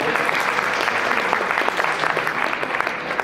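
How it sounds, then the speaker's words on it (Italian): Sustained applause from a conference audience honoring a journalist at an Italian school event, a dense, steady wash of many hands clapping that stays loud and even throughout. "Ester Castano, premio Pippo Fava, alla quale tributiamo un applauso,"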